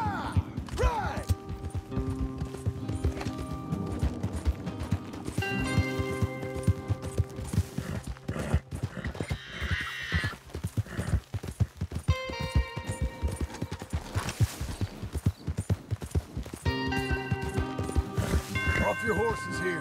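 Rhythmic hoofbeats of a galloping horse in Red Dead Redemption 2 pound steadily, mixed with game music tones and occasional voices in the background.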